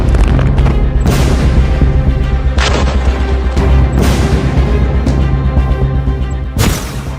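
Repeated heavy explosions in the Israel–Hamas conflict, loud booming blasts in quick succession with a rumbling tail after each, alone with no talk.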